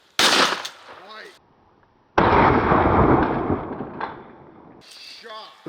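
A shotgun blast rings out during a duck hunt in Kansas, a single loud burst followed by a sustained roar of noise, with shouting voices before and after.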